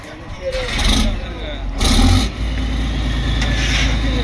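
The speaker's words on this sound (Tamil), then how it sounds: "இன்ஜின் ஸ்டார்ட் பண்ணியாச்சு." An inboard engine chugs on a fishing boat out on the Arabian Sea, a constant low drone under broadband splashing and scraping bursts, with people talking nearby.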